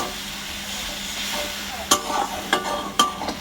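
Mushrooms are stir-fried in a pan over low heat, a soft steady sizzle broken by several sharp scrapes and clacks of a spatula against the pan in the second half.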